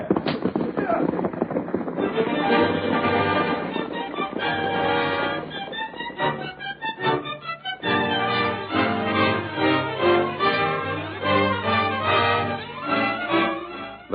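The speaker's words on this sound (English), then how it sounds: "Eric, get those horses started." Horses start off and gallop in an old radio drama, with clip-clop hoofbeats and whinnies under shouted voices and urging calls, loud and busy with a brief lull partway through.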